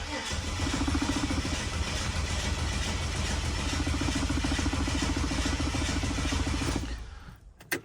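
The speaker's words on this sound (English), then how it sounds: "It turned over on the key." An XE Ford Falcon, left untouched in a barn for 13 years, turns over on its starter motor in a steady, loud cranking drone lasting several seconds, then stops abruptly.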